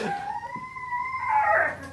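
A dog lets out a sustained, wavering howl nearby, holding a long steady tone before rising into a louder, strained yip-like finish.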